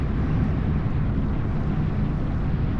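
A Kawasaki VN900 Custom motorcycle accelerates hard to overtake, its engine a dense, steady roar heard from the rider's position, mixed with heavy wind rush and no talk.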